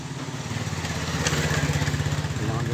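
A motorcycle engine runs steadily nearby with a throbbing low rumble that grows a little louder partway through, heard outdoors by a river in Mohammadpur, Magura.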